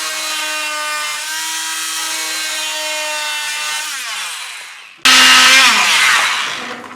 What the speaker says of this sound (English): I can use as a guide for my saw to cut through to the next vertical cut